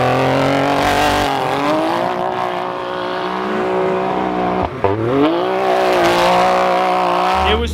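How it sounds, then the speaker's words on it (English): A side-by-side vehicle engine idles and revs with a low, fairly muted exhaust note, the pitch rising and falling and briefly dipping midway. "This exhaust is pretty freaking quiet."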